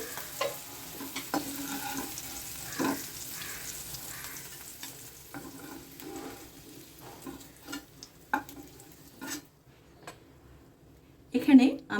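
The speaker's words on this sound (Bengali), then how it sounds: "কিছু কাজু আর কিশমিশ নিয়েছি এটাকে এই তেলের মধ্যে একটু হালকা করে ভেজে নিচ্ছি" Cashews and raisins frying lightly in oil make a soft, sparse crackle with scattered ticks and spoon clicks, fading to near quiet before a sharper clatter, while a voice talks over it.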